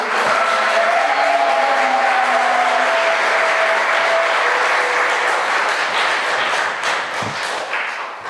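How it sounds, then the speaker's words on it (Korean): Thick, steady applause of thanks from a church congregation for a Franciscan priest at a Catholic Holy Spirit seminar in Seoul, holding at full strength before tapering slightly near the end. "신부님께 다시 한번 감사의 박수"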